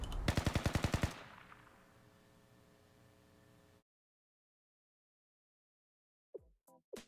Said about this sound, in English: Does it seem like the gunshots are getting closer?